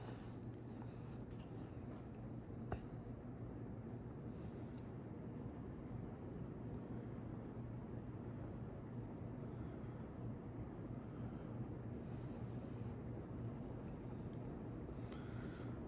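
Two Windsor and Browne 52-inch ceiling fans running on high, giving a steady, low whooshing drone of moving air with a faint constant hum, unchanging and continuous throughout.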